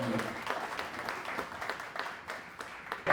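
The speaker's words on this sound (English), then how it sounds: "y'all please give Ashley one more round of applause" Audience applause at a tech career networking event, a modest crowd clapping in scattered bursts at moderate volume, trailing unevenly toward the end.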